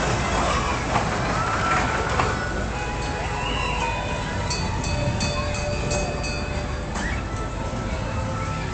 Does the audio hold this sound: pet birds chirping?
no